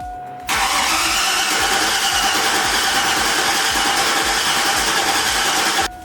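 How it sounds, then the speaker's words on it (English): The rebuilt engine of a truck being supercharged cranks over loudly and steadily for about five seconds, a close, continuous churning starter drone with rapid rhythmic pulses, then cuts off abruptly. "what I'm gonna do is crank this motor over until I see oil pressure"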